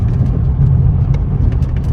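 Steady low engine drone from a 2015 Nissan Rogue small SUV while driving, a continuous cabin-level rumble with mild road noise and no pauses throughout.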